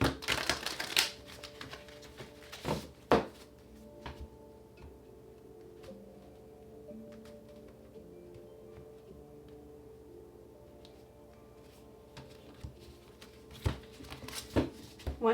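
Tarot cards being shuffled by hand, heard as crisp riffling bursts at the start, a couple of sharp snaps a few seconds in, and another flurry at the end, with a soft sustained musical hum filling the quieter middle.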